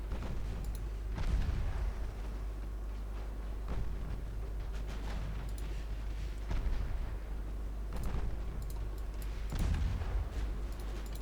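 Naval guns firing at an enemy destroyer in Ultimate Admiral Dreadnoughts, a sea battle set in 1923: repeated booming salvos roll over a constant low rumble, several heavy reports spaced a few seconds apart.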